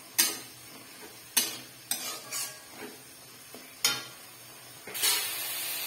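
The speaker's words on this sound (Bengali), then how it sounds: "মশলাটা ভাজা ভাজা হয়ে আসছে" Ground spices including turmeric and cumin fry in a pan for paneer kalia while a utensil scrapes and stirs, giving sharp intermittent clatters and scrapes over a soft, steady sizzle, close up with no voices.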